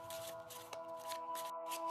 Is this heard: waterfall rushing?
no